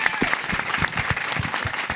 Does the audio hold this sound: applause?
yes